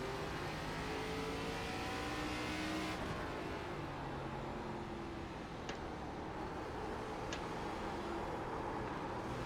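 An ARCA race car engine in the iRacing sim drones and revs continuously at high pitch, with a sudden shift in tone partway through and a few faint clicks.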